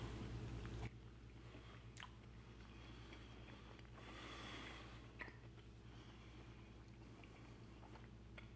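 Someone bites into and chews a slice of low carb keto pizza made with a homemade crust, giving soft, close, quiet mastication sounds with a few sharper bites over steady background hum and no talking.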